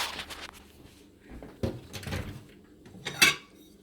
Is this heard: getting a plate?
yes